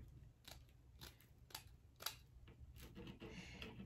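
Scissors snip repeatedly while a wreath is being made, a series of sharp, close, fairly quiet cuts spaced about half a second apart with soft handling rustle between.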